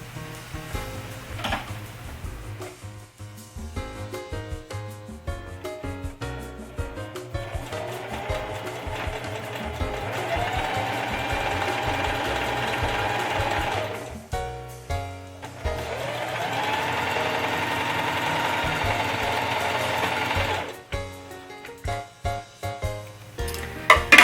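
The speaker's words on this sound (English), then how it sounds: "So now we're going to sew down the corners again, encasing the seam that we just made." A sewing machine runs a quarter-inch seam along the corners of a fabric crib sheet, humming in long steady bursts with short pauses between runs, close and moderately loud.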